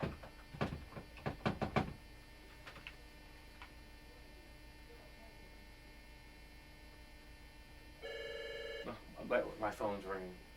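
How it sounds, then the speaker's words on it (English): A telephone rings in an office, a short electronic ring standing out against a steady mains hum, with brief speech and clicks heard before it. "My phone's ringing."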